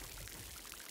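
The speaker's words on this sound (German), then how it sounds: "Hier wird gegossen." Plants are watered in the video game Grow: Song of the Evertree, a faint, soft, continuous pouring trickle of water lasting about a second, heard alone.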